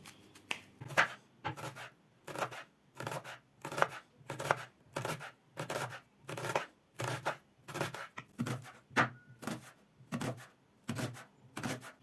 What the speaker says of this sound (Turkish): Şimdi öncelikle mor bir tane soğanımızı bu şekil keselim